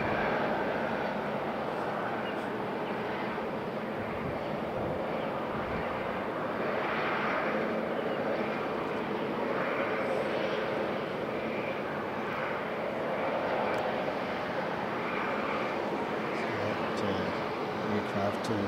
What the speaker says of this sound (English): Aircraft is in from Sydney, from Brisbane, QF 521